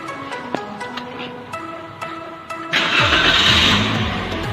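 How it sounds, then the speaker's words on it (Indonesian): A car engine in normal condition cranks and catches after some light clicks and tones, then settles into a loud, steady idle before an exhaust emissions test; no one speaks. "Oke, kita starting mesinnya."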